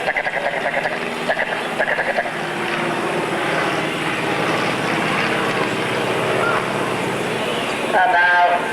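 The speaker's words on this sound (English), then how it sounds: "The Red Baron desperately trying to keep out of the gun sights of the SE-5" Vintage SE-5 biplane engine droning steadily overhead during a mock dogfight at an air pageant, a continuous moderately loud hum with a commentator talking over it throughout.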